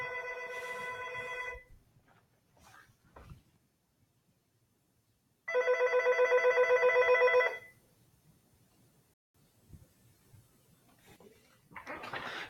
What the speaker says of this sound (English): a little bit of phone ringing